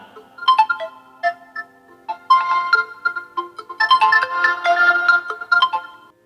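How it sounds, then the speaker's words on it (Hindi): An auto-rickshaw driver's mobile phone rings with a melodic electronic ringtone, playing bright repeating phrases of tones loudly and clearly with nothing else behind them. "थोड़ी ही दूर जाने के बाद ऑटो वाला का अचानक फोन बजने लगा।"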